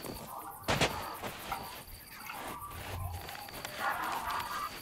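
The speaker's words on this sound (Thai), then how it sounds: "ขึ้นไปปีนปืนใหญ่ยิงแม่งเล่นดิเนี่ย" Several booming cannon blasts in Sea of Thieves go off at irregular intervals, one sharp and loud early, others duller, over a noisy game background.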